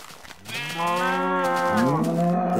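A Minecraft cow lets out one long, drawn-out moo that swells and then bends upward near its end, loud and close with nothing else heard.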